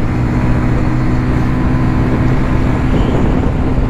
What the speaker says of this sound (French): J'aime bien le bruit de la moto.